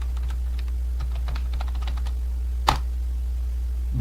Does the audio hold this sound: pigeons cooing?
no